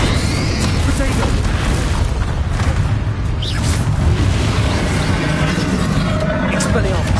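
A spell blast in the Hogwarts Legacy video game bursts out as a dense explosive boom, part of a continuous wash of loud combat effects and rumble. A voice speaks over the noise.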